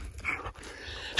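A dog panting and whimpering up close, short breathy pants and a faint whine ending in a brief louder burst.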